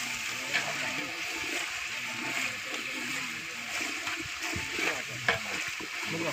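Salt and coriander powder being mixed into marinated fish pieces in a pan for dum fish biryani; a continuous wet, squelchy stirring and faint sizzle runs throughout, with occasional louder knocks and a voice speaking.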